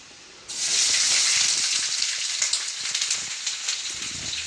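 Onions dropped into a hot pan burst into a loud, steady hiss that begins suddenly and holds on, easing slightly with crackling pops as it goes on.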